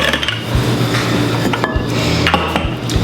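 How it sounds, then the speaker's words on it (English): A rolling pin rolls out vegan pie crust dough on a floured surface, giving a steady low rumbling roll with a few light wooden knocks and scrapes, close and fairly loud, with no talking. "Grab a rolling pin, flour up the top, flour up your rolling pin, and roll out your pie crust."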